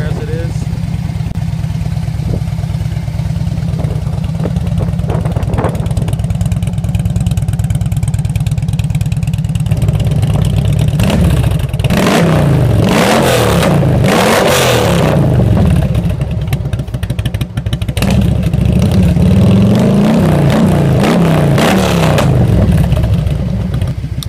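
2000 Harley-Davidson FLT Ultra Classic with a small-displacement V-twin, lightly customized, loping at idle up close before being revved several times, engine rumble loud throughout with someone talking over it.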